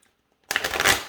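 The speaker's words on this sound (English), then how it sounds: "let's see how this deck riffle shuffles first of all" Matte-printed tarot deck riffle shuffled: after a short silence, a close, crisp burst of flicking card edges lasting about half a second and ending in a soft rustle.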